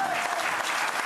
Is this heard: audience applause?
yes